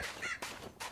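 A crow cawing in a modded Minecraft world: three short, harsh honking calls evenly spaced, close and fairly faint, with no speech.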